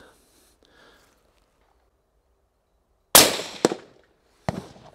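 A sharp rifle shot cracks out from an unsteady rest, followed by a second fainter impact of the bullet striking the target a moment later; otherwise quiet.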